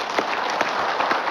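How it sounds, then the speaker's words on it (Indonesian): Studio audience applause for a preacher on an Indonesian Islamic religious TV programme, a brief dense wash of many hands clapping at a steady level, with no voices over it. "tepuk tangan untuk Ustadz Zaki Muhammad"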